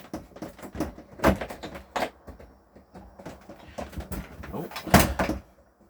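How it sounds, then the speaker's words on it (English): Shower door in a 2012 Lunar Lexon 550 caravan being moved and set into place, giving a series of close knocks, slides and clunks at an uneven pace, the loudest near the end. "Give me a second just to put the door in position."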